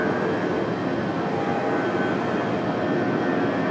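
A Delta airliner's jet engines roar in a loud, steady rumble on the ground at Raleigh-Durham airport. The broad roar holds even throughout and sounds fairly close.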